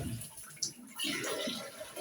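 Cold tap water runs onto a hot casserole dish, a faint, steady splashing hiss that swells partway through and carries on to the end.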